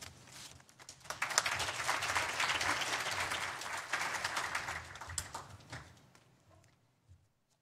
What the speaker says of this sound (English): we have another round of applause for all of our panelists